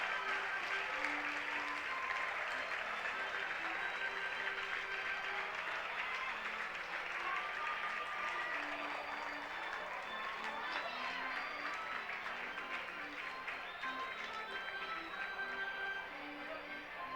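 A home crowd at a 2012 MHSAA 6A high school baseball championship game applauds and cheers steadily during the seventh-inning stretch, a broad, distant, sustained wash of clapping and crowd noise with faint voices mixed in.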